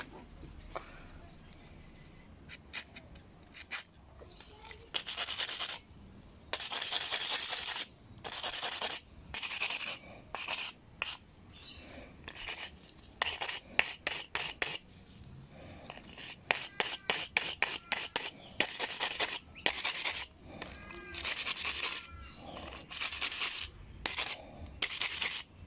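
Gasket residue being scraped and cleaned off a small carburetor body from a Ryobi trimmer, close repeated rubbing and scratching strokes in irregular bursts with quiet pauses between.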